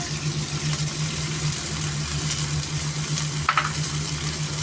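Mixed sauce poured into a pan of oysters over lowered heat, giving a steady close sizzle and frying hiss that runs unbroken throughout, with a low hum beneath and no talking.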